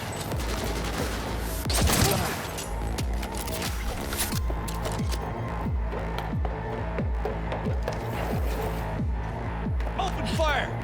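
A minigun in Cyberpunk 2077 fires a continuous rapid stream of loud, close shots for the whole stretch, with a few heavier impacts and clatter mixed in.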